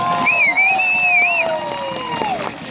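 A crowd at a school band pep rally applauds and cheers steadily for about three seconds, with a sharp whistle warbling over the clapping and voices mixed into the din.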